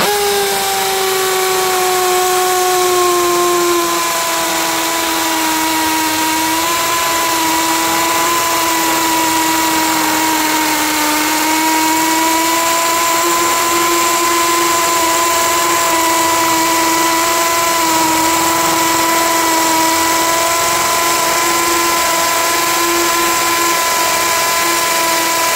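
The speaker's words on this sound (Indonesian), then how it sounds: "Mata bor 10 mm, sangat-sangat cepat masuknya." A cordless brushless hammer drill with a 10 mm bit, set to speed 2 in hammer impact mode, bores steadily into concrete block, giving one loud, continuous whine with a hammering rattle beneath it for the whole stretch.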